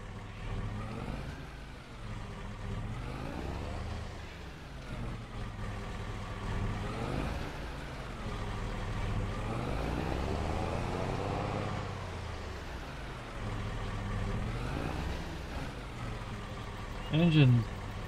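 A vehicle engine in Farming Simulator 22 drones steadily throughout, its pitch rising and falling in slow waves as it drives, with a brief higher whine climbing near the end.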